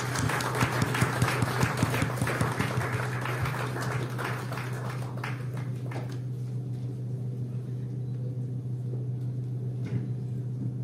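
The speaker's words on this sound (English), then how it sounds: "With a big round of applause." A burst of clapping from a crowd at a felicitation for newly selected civil judges fills the first few seconds, then thins out and fades, leaving a steady low hum.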